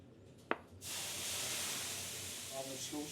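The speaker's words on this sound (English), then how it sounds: "You water the stones, heat it up." Water poured onto hot sauna stones gives a sharp crack, then a loud, steady rushing hiss of steam lasting a few seconds, with a voice speaking briefly near the end.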